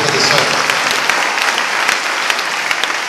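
A church congregation claps in a steady burst of applause, dense and close with sharp hand claps throughout, while a voice speaks over it.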